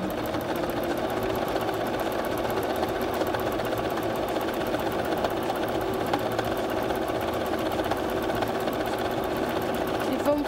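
A sewing machine stitches a quilt in a steady close mechanical whir with a fast regular needle rhythm. It runs without a break for the whole stretch.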